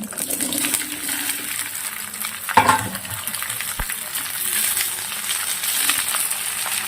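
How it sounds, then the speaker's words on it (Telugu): Okra pieces, cut large, frying in a pan with dried red chillies and onions, giving a steady close sizzle with stirring scrapes and one sharp clink midway, no voices. "ఇప్పుడు బెండకాయ ముక్కలు వేసుకుంటాను"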